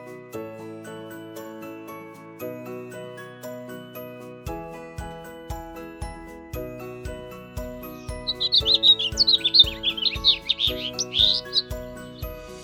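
A nightingale sings in rapid trilling bursts through the second half, high and bright, layered over gentle plucked background music with a steady rhythmic pulse.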